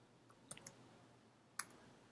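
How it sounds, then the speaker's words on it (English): Computer keyboard keys clicking while entering a spreadsheet formula: a few faint, close plastic clicks, a small cluster early and one sharper press later, in a quiet room with no talk. "then I hit enter on my keyboard, or return"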